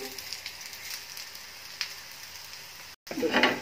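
Mustard flower fritters fry in oil with a soft, steady sizzle and scattered crackles; after a brief dropout near the end the frying swells louder.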